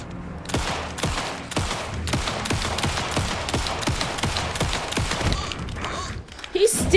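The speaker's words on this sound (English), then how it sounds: "I'm shooting as fast as I can, people." Rapid gunfire in Alan Wake 2 on Nightmare difficulty, a steady rhythm of punchy shots about twice a second, loud and close, ending with a heavy thump as the firing stops.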